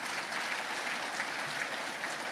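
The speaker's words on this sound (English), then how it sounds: "I ask you to give them a huge round of applause." Continuous applause from a large room of Guyanese diaspora gathered in Canada for a presidential meeting, dense and even throughout with no talk standing out.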